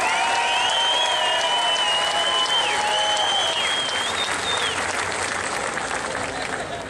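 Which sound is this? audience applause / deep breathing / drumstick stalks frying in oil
audience applause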